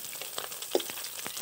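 Pieces of a large fish fry in oil with a soft, low sizzle and a few sharper crackles and pops scattered through, fairly faint and with no voices.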